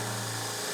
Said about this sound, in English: we're going to drill a small pilot hole right here in the center